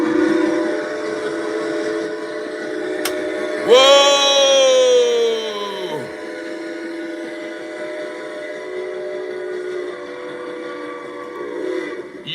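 A train whistle sound effect blasts loud and sustained over a steady rumbling rail background, with a short excited exclamation near the start.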